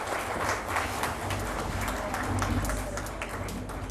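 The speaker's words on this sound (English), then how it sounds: "Let's give a warm round of applause." Audience applauding at a tourism awards ceremony, a steady wash of many hands clapping in a large room with no voices heard.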